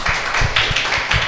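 Short burst of audience clapping after a talk on urban coding, a handful of distinct, fairly close claps in an uneven rhythm, no voices.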